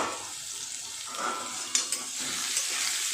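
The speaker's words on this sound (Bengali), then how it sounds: "আলু পটলটা খুব সুন্দর করে ভাজা হয়ে গেছে।" Potato and pointed gourd pieces fry in hot oil with a little turmeric. The oil gives a steady, close sizzle, with a couple of light clinks from a utensil part way through.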